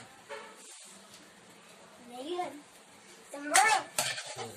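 Sauce being stirred in a cooking pan for baked rice, with a spoon scraping and clinking against the pan in short bursts amid quiet kitchen sounds, while someone talks in the background.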